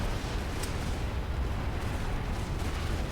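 Super tank firing in the video game Prototype, a dense, continuous roar of blasts and rumbling at a constant, loud level with no pauses.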